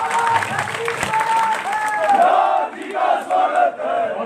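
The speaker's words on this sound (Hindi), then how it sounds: "पुनः तालियां मार के तरफ जोर से" Crowd clapping and cheering at an outdoor political rally at Gandhi Chowk in Hamirpur, a loud sustained swell of many hands with shouting voices mixed in throughout.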